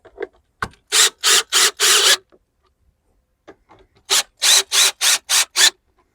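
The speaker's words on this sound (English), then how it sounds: "we'll go ahead and crank it up a little bit there" A retractable garden hose reel being cranked makes close, rhythmic rasping ratchet strokes, a burst of about four turns, a pause, then a longer run of about six turns.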